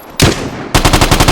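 Loud, close hip-fire gun bursts in the video game Vigor: a single sharp shot, a brief pause, then a rapid automatic burst of about six or seven evenly spaced rounds.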